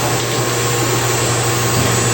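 A water pump on a VFD constant pressure system runs with a loud, steady, unbroken hum and broadband whoosh, close by and without pause.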